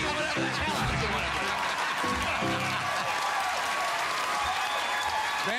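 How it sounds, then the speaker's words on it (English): A late-night television studio audience claps loudly and continuously, mixed with some laughter and a voice talking over the start. "I'm humbled by that applause."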